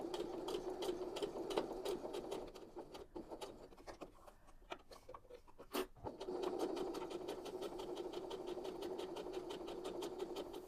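A sewing machine stitching fabric scraps for a small handbag, running in steady rapid bursts, pausing briefly mid-seam for a back stitch with a sharp click, then resuming its even close-up chatter; no voices.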